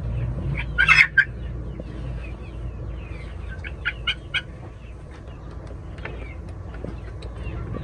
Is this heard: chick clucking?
yes